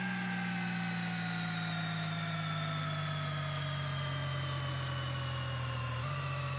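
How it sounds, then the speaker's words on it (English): A car engine in the Gear Blocks game hums steadily at low RPM with a smooth, even tone that drops slowly, then shifts with a small step as it downshifts near the end, with no talking. "once it gets just below 800, it should downshift"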